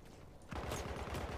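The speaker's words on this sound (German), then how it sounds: "Ich hab keine Ahnung, von welcher Seite ich beschossen werde." Gunfire in the video game Battlefield 1 erupts after a brief lull, a dense rapid burst of loud shots rattling continuously for about a second.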